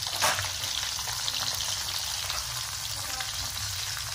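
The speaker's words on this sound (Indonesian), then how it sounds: "bumbu kari siap untuk digoreng setelah dipotong-potong seperti ini" Curry spice paste sizzles and fries in a pan, a steady close crackling hiss that runs unbroken throughout with no talk over it.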